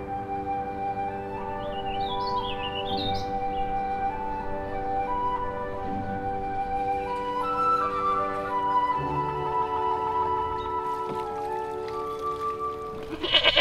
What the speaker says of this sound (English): Gallup Park has gone to the goats as they work overtime clearing invasive plant species from 2 park islands.